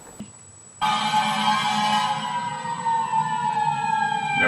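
An American-style electronic fire truck siren from an Elenco circuit kit kicks in after a short quiet start, a loud steady wailing tone with rich buzzy harmonics holding on close by.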